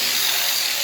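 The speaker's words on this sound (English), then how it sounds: "I'm going to grind it from the bottom" A power tool grinds steadily on the head of a nail to shape it into a point during a cat door repair, a close, continuous high-pitched abrasive whine.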